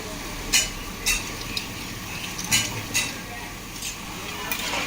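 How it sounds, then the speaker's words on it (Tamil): Machine-sliced nendran banana chips dropping straight into a pan of hot frying oil at a chips-making unit, each batch landing with a sharp sizzling burst at irregular intervals over a constant low frying hiss. "அப்படியே அந்த காயை அதில் போட்டு சொருகுறாங்க ஸ்லைஸாக அப்படி வந்து விழுது பாருங்கள் எண்ணெய் கடாயில் டைரெக்டாக வந்து விழுந்துடுது"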